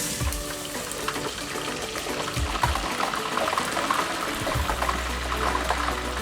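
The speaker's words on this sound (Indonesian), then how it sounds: "ini saya masukkan mulai ke dalam minyaknya" Meat slices lowered into hot frying oil in a pan, giving a steady bubbling, crackling sizzle with a few soft low thuds as pieces go in, close by and with no talking.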